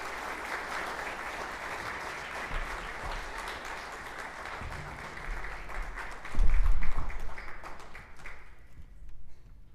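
Audience applause in a concert hall at a piano illusion show, steady clapping from a crowd that swells briefly louder near the end before thinning out.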